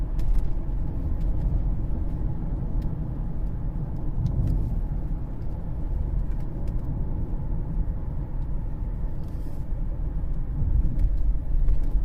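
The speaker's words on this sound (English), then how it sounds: "Hopefully you guys could hear the drive shaft." Inside a 2013 Cadillac CTS 3.0 RWD on the move, a low, steady rumble from the drive shaft and drivetrain carries on over continuous road noise, with faint thumps scattered through.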